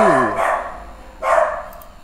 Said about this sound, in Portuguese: É um cachorro, é um maltês, cara.